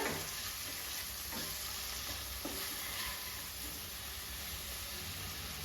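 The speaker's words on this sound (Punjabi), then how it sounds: "ਇਹਨਾਂ ਨੂੰ ਤਕਰੀਬਨ 1 ਮਿੰਟ ਲਈ ਆਪਾਂ ਭੁੰਨ ਲੈਣਾ ਹੈ ਪਿਆਜ਼ ਟਮਾਟਰ ਦੇ ਨਾਲ" Onion and tomato roasting with salt as the base for besan bhurji, a steady soft sizzle and hiss of frying in a pan, with a few faint stirs, continuous and even throughout.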